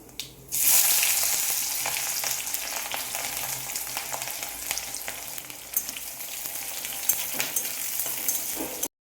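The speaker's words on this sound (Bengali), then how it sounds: "পেঁয়াজটা লাল হয়ে ভাজা হয়ে এসছে" Chopped onions frying in a pan with cloves and whole cumin, a steady close sizzle that starts abruptly and continues with occasional crackles and stirring sounds.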